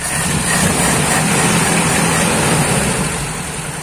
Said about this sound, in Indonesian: mesin tetap nyala